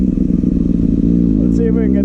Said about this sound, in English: see if we can get the RPMs higher in a rolling burnout